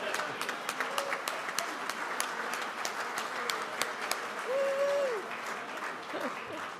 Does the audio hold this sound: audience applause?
yes